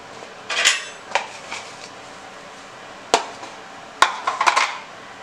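Mashed sweet potato goes into a bowl of pancake batter with a few sharp clinks and taps of a spoon against the bowl. The clinks come in scattered bursts with quiet gaps between them.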